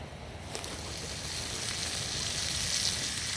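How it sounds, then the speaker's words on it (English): Bacon sizzling over a campfire in the wilderness, a dense, steady hiss of frying fat that grows slightly louder and stays close and continuous. "This is the manly way to cook bacon."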